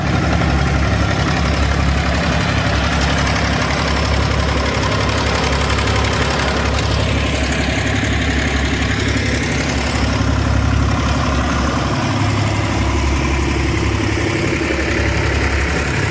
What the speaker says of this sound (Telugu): ఈ మోటార్ అనేది చాలా స్పీడ్గా అయితే వర్క్ చేస్తున్నాయి